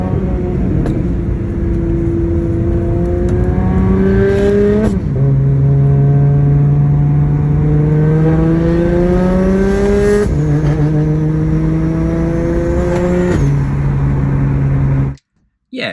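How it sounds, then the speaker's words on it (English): A twin-turbo N54 car with a raspy aftermarket exhaust drives in limp mode, its engine droning loud and near through several rising gear pulls with sharp shift breaks, cutting off abruptly at the end. "the thing sounds pretty wild. It's quite raspy with this exhaust"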